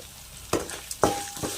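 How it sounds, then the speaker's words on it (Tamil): A ginger chutney mixture with salt, turmeric and asafoetida being sautéed in a pan: soft frying sizzle broken by a few sharp scrapes and clinks of a spoon stirring against the pan. "இது எல்லாத்தையும் நல்லா வதக்கிடலாம்."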